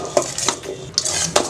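A utensil stirs and tosses karunai kizhangu (yam) fry in a pan, making quick clinking scrapes against the metal in an irregular rhythm, close and fairly loud.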